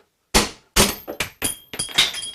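A socket being pressed in a bench vise to push out the mechanical seal of a Kawasaki Z1300-6 water pump gives a string of sharp metallic cracks and clunks, about seven close, loud impacts in irregular rhythm.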